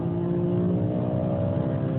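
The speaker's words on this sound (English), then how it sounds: "the whole engine tone just comes alive" BMW M5 E60 with a 5-litre V10 running in its 507-horsepower mode, a loud, close, sustained engine note with rich harmonics holding steady throughout, with no voices.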